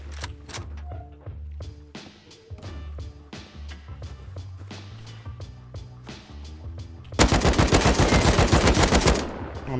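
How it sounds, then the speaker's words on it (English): AK rifle fire in a survival video game: scattered single shots with rhythmic thumping, then a loud, sustained full-auto burst close by near the end. "I'm gonna go loud AK and just kill him."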